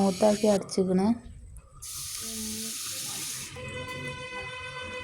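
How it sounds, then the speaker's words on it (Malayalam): A voice speaks briefly, then water is poured into a dish with a bright, hissing rush for a couple of seconds to thin it, followed by quieter kitchen sounds. "നമുക്ക് ഈ കുറച്ചുകൂടി വെള്ളം ഒഴിച്ചെടുത്തുക്കാണ്ട് ലൂസാക്കി എടുക്കുക"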